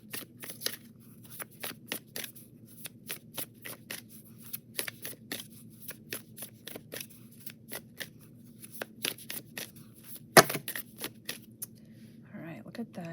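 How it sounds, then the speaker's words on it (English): Tarot cards are shuffled over and over, a quick rustling riffle repeating in bursts with brief pauses, close up and fairly loud. "I'm just going to keep shuffling."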